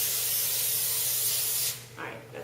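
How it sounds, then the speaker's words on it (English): Pam cooking spray hisses in one long, close, steady burst onto a foil-lined baking pan, then cuts off, leaving softer handling sounds. "and you spray it with Pam"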